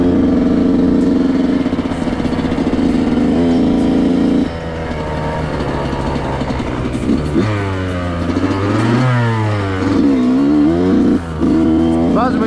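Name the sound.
Yamaha YZ125 dirt bike engine running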